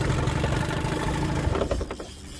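A 1978 Evinrude 25 hp outboard motor idles steadily on a small 14-foot Lund deep-V fishing boat, a continuous low engine drone with light clatter that eases slightly near the end, with no talk over it.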